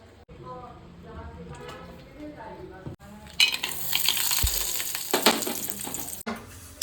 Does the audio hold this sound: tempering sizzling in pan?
yes